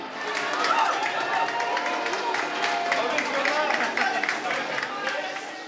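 Crowd applause for a Grand 8 roller coaster resuming service, dense steady clapping with a few voices mixed in, lasting the whole stretch.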